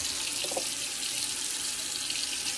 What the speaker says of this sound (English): and then I'm going to get hot tap water.